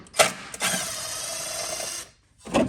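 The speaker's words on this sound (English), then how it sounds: "grabbing a 10mm socket on an impact" Impact wrench fitted with a 10mm socket spinning off a fastener on a 2014-2019 Jeep Cherokee during rear shock work, one sustained whirring burst of about a second and a half, bracketed by short clanks.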